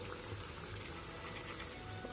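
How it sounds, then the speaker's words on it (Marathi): Water poured into a prawn and potato gravy in a cooking pot, a steady, even rushing splash that runs unbroken for about two seconds with no talking. "याच्यामध्ये पाणी टाकून घ्यायचंय आपल्याला."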